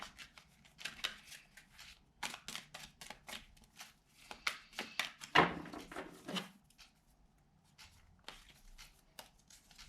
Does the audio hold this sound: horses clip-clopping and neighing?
no